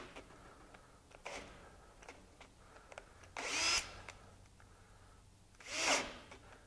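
A Ridgid R96021 drill drives a 1¼ inch bit into 3½ inch thick wood in two short, loud bursts of grinding and whirring, with quieter clicks and handling noises between them.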